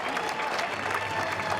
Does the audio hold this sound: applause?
yes